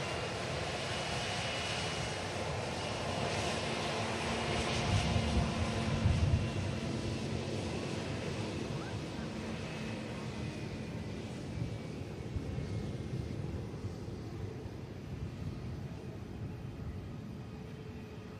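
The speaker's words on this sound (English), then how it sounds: "we also have a Ryanair from Budapest on the touchdown as well" A Ryanair airliner from Budapest touches down with a sustained, fairly loud engine roar that stays even throughout, rising briefly in the middle, with no voices present.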